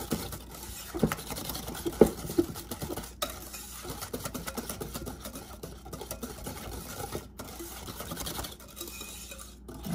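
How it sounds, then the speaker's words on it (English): Scone ingredients for lemon blueberry scones being whisked together in a bowl, a steady soft scraping and tapping of the whisk against the bowl with a few brighter clinks, moderately close and without talk. "we are going to whisk this together"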